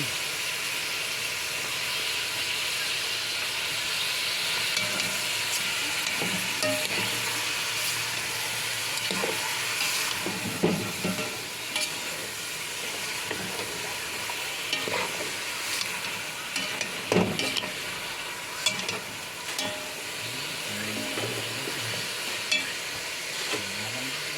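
Arroz caldo ingredients, including plenty of ginger, sautéing in a pot: a steady close sizzle and hiss with occasional stirring scrapes and clicks, no talking.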